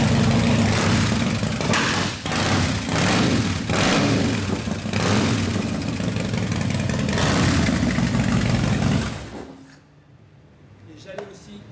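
A Harley-Davidson CVO Softail Convertible engine runs loud and close through aftermarket exhaust, with a deep, throaty rumble and a few blips of revving, then cuts off, leaving quiet room noise.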